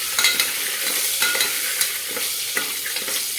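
Red chillies, cinnamon pieces and bay leaf sauté in a pan with a close, steady frying sizzle. Repeated scraping strokes of a spoon stirring the spices sound at an irregular rhythm, and no one speaks.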